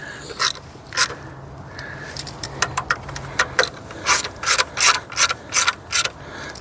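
A ratchet clicks in quick bursts while running down the valve cover screws on a 2005 Nissan Altima 2.5L four-cylinder, giving close, loud, rhythmic pawl clicking with short pauses between strokes.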